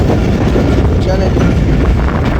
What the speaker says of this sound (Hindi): अल्लादीन हुसैन से निकल गई है ट्रेन जी दोस्तों।